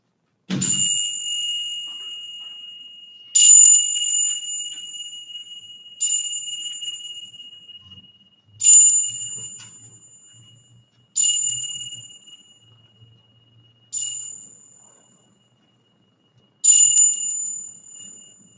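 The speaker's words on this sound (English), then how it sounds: "we ring the bell 7 times for the 7 principles of Unitarian Universalism" A bright bell struck seven times at the opening of a Unitarian Universalist church service, each clear ring decaying before the next at spaced, slightly uneven intervals, with faint room murmur between strikes.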